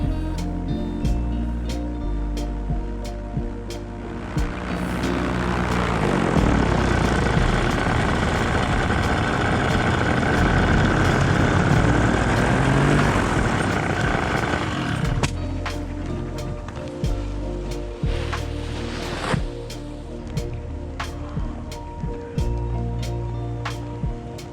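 Paramotor engine and propeller droning in flight over Pitsford Water, a steady buzzing hum that swells into a loud, roaring stretch in the middle before easing back to a lower, even drone.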